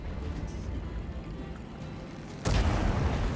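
Tank gun in the World of Tanks video game firing a single loud boom from an EBR 105, which jumps out of a low steady engine rumble and leaves a lingering roar.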